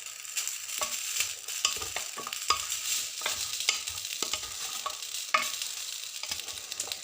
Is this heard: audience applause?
no